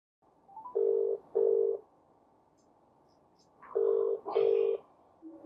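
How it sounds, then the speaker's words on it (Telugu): An outgoing phone call rings back through a handset, two paired electronic ring tones separated by a quiet pause, close and clear over faint background hiss. "మరి ఇందులోంచి చేస్తే అతను ఎత్తుతాడా ఫోన్? ట్రై చేస్తారా?"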